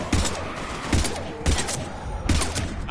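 Gunfire in the Mass Effect 3 video game: four sharp, evenly spaced shots ring out over about three seconds amid a busy background of battle noise.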